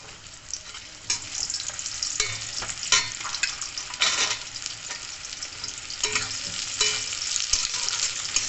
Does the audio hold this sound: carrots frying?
yes